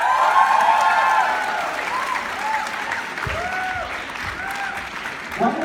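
Audience applause at a Model United Nations event in Mumbai, a loud, dense wash of clapping from a large crowd that fades slightly but keeps going, with a voice speaking over it partway through.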